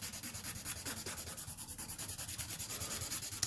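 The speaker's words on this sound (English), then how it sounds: "So we're just going to buff down our pink." Acrylic nails being buffed with a nail file, a steady rhythmic back-and-forth rasping at close range, continuous strokes with no talking.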